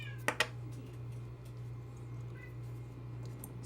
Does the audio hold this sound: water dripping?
no